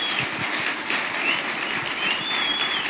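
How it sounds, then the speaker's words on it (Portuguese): A church congregation claps hard and continuously, a dense, steady wash of applause filling the whole stretch without a break, with no speech over it. "Aplaude bem forte ao Senhor em nome de Jesus"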